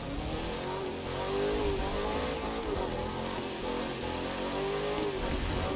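A car engine in a driving video game revs and wails through a drift, a continuous mid-pitched engine drone with rising and falling pitch sweeps, steady and loud with no talk.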